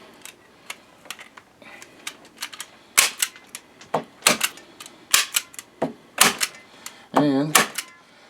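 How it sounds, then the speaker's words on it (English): A staple gun fires into a brooder box wall as a run of sharp, close snaps at irregular intervals, some louder than others, ending with a brief rattling burst. "Oh, come on, staple gun."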